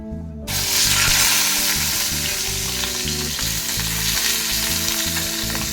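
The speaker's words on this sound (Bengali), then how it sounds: "তো আগে চিংড়ি মাছটা ভেজে নিই।" Prawns hit hot, smoking oil in a wok with a sudden loud burst of sizzling that settles into a continuous, dense crackle. A low background hum runs throughout, and no one speaks.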